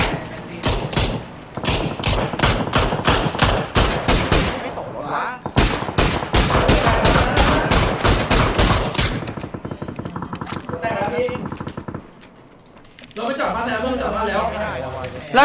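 Rapid automatic gunfire and bursts of shots in the battle royale game PUBG, loud and dense for several seconds, then lighter scattered shots and clatter, with voices talking over parts of it.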